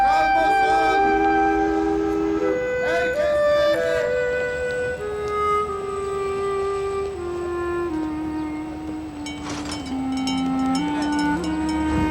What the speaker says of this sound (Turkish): Tren kalkıyor! Tren kalkıyor! Herkes trene!